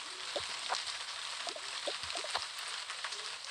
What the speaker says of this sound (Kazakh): Жаңбыр тоқтамайды екен.